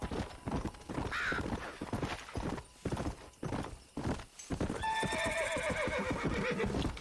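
A horse in the video game Red Dead Redemption gallops with rapid, rhythmic clip-clopping hoofbeats, then lets out a loud, drawn-out neigh over continued hoof sounds.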